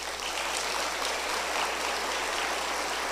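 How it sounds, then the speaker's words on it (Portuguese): A church congregation applauds together, a steady wash of clapping hands at even volume from start to finish with no speech over it. "Uma salva de palmas para essas pessoas."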